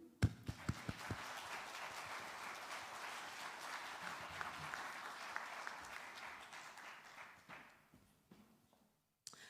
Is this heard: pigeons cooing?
no